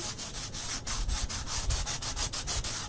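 Close, rhythmic scratchy strokes of sandpaper rubbing back and forth over rough wood slices, a steady rasping cadence with no voices.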